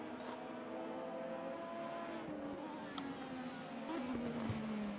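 A DTM race car engine in the RaceRoom R3E racing game drones steadily at moderate distance, its pitch shifting gradually through gear changes, with faint tire noise and other cars in the background.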